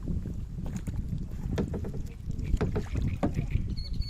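Kayak paddled hard on the Gwda river, quick repeated paddle strokes and water splashes close by under wind noise on the microphone, with no clear talking.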